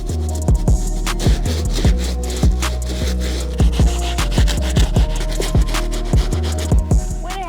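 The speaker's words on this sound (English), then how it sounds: "Went ahead and finished hitting up this outsole using the stiff bristle brush." A stiff bristle brush scrubs the rubber outsole of a Nike Dunk Low sneaker in rapid back-and-forth strokes, loud and close, each pass a rough scratchy rasp repeated steadily about twice a second with no talking.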